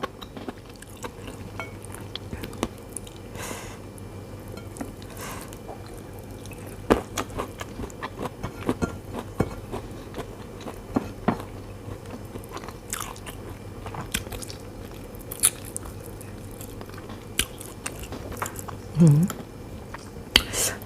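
Someone eating a homemade Thai meal of rice, mushroom soup and pork rib curry, with close, soft chewing, bites and occasional utensil clicks spread over a quiet background.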